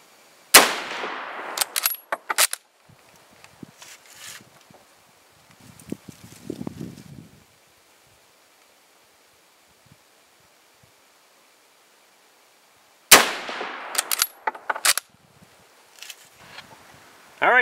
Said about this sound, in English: we'll shoot another group